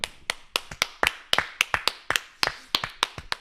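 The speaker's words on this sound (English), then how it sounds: "Let's clap it up to the Most High for that" Steady hand clapping from a small church group honoring the Most High at a Passover feast-day history class, about fourteen sharp, evenly spaced claps in a loose rhythm, close and clear with no talk over them.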